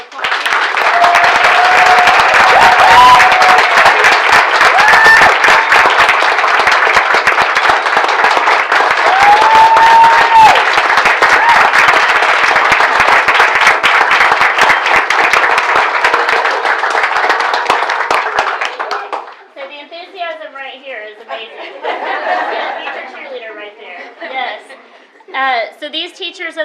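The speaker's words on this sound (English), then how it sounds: "You guys will give everyone a round of applause." An audience in a school district hall applauds its teachers of the year with loud, sustained clapping for about twenty seconds, then the clapping thins out while people chatter and laugh nearby.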